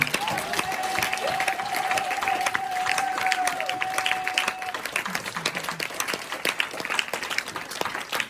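Audience at a sisters' conference applauding and cheering, a steady wash of clapping with voices rising through it, a sustained tone running under the first few seconds.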